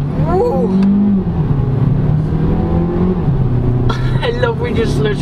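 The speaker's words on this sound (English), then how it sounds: "Let's floor it." Close interior sound of a 2022 MG HS Trophy compact crossover SUV accelerating at full throttle, with a steady engine drone rising in pitch and a brief shift partway through, while a voice talks over it.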